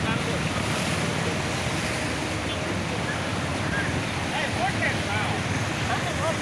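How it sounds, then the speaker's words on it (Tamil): Sankaraparani River floodwater gushing out in Pondicherry, a loud continuous broadband roar of rushing water with wind buffeting the microphone and people talking underneath. "அதான் அடைச்சின்னு கிளம்புது வெளியே தண்ணி."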